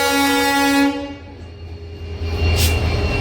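The Secunderabad to Repalle Express, train 17645, sounds a long loud horn blast that cuts off. It is followed by the rumbling roll of wagons close by and a second burst of noise near the end.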